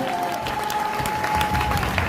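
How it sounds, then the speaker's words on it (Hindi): Applause from a seminar audience in a hall fills the space: steady, moderately loud clapping with a few scattered cheers, alongside a faint tonal hum. "ताली मर्दों वाली बजाइए"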